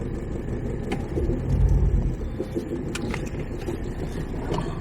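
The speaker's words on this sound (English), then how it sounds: "there's a lot of traffic here" Car traffic moving around a car park in Folkestone, a steady low engine rumble from nearby vehicles that swells briefly as one passes close, with faint clicks and knocks on top.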